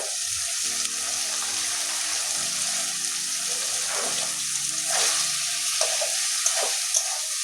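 Water pours and splashes into a pan of bhola fish and pointed gourd, a steady sizzling hiss and gurgle that runs throughout at moderate level without talk.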